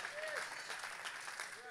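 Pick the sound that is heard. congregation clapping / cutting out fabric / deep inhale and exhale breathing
congregation clapping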